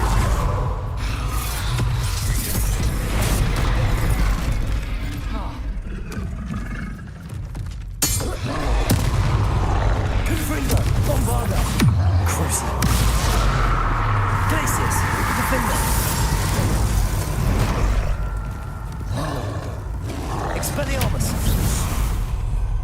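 Confringo blasting spells in Hogwarts Legacy, sharp shattering bursts and crashes scattered through a noisy fight, with a voice speaking over much of the action.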